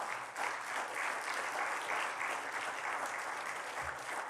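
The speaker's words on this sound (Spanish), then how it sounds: "Denle un aplauso a Cristo" A church congregation applauds during a sermon, giving steady, even clapping that holds at a moderate level for several seconds with no voices over it.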